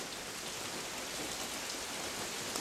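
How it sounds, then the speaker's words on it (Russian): Steady rain drips and patters outside a window on a dark evening, an even, dense hiss with no talk over it. "что это капает дождь"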